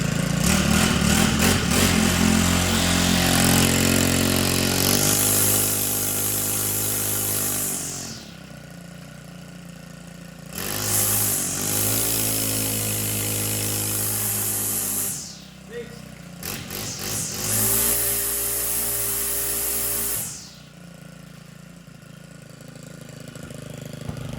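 A Makita four-stroke brush cutter engine runs close by, idling and revving in several bursts separated by brief drops, with a steady mechanical drone throughout.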